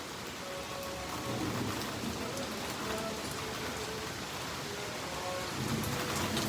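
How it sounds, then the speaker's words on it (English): Steady, heavy rain pours during a night-time lightning storm, a dense continuous hiss with no distinct thunderclaps standing out, close and even throughout with no talking. "I'm sorry, my friends, but I love a rainy night."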